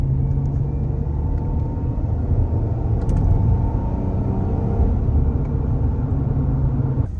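A car engine runs while driving, a steady low rumble with road noise, close and even, with a few faint clicks and no talking.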